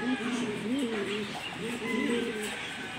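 Fancy ornamental pigeons coo in soft, rolling, repeated calls close by, several overlapping phrases over a steady background hum.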